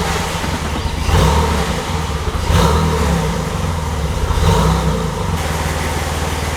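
A high-mileage Porsche 911 Turbo being restored runs with a loud, steady engine rumble, close by, swelling gently with a few light throttle blips. No one talks.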